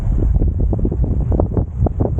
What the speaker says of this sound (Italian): c'è il mare e che c'è un vento che ti porta via